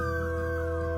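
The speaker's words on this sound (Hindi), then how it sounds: "ऐसे ही एक रात दूर कुत्ते भौंक रहे थे।" A dog howls in a long, sustained tone at night, steady and fairly prominent in a village setting with no talk, within a suspense cartoon story.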